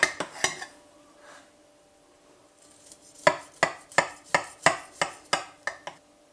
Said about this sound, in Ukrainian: І можна нарізати манник на шматочки.